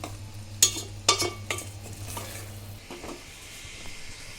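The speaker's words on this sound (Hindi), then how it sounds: "इस तरह से मैं शक्कर घुलने तक इसको थोड़ी सी स्लो मीडियम फ्लेम पर इसको पकाऊंगी।" Sweet broken wheat cooking with sugar over a slow-medium flame, a soft bubbling simmer with a few sharp spoon clinks and stirring scrapes against the pot near the start, then quieter low sizzling.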